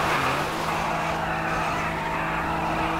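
A Tofaş car's engine straining hard in a GTA 5 mod, a steady loud roar with a droning tone and rough, gritty noise that holds without letup throughout.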